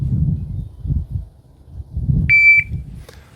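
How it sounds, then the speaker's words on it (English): A shot timer at an outdoor shooting range gives a single short, clear electronic beep, heard after low rustling and handling noise. "I thought the beep wasn't coming."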